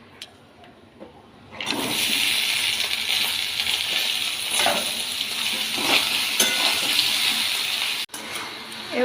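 Bottle gourd goes into hot oil tempered with bay leaf, dried red chilli and whole cumin, and a loud sustained sizzle rises after a quiet start and carries on to the end, with a brief cut near the close.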